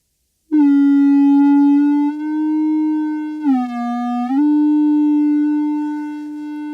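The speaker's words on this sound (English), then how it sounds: "that's the equivalent of the subtle squeal" A loud, sustained tonal squeal of feedback on an SSL Duality mixing console, rich in harmonics, wavering in pitch midway before settling and cutting off.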